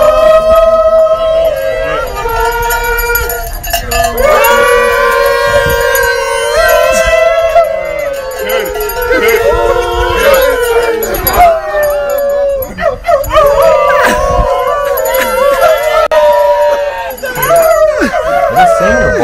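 A group of people sing Silent Night in a wavering falsetto that mimics howling dogs, the voices loud and continuous with sliding, yowling pitches.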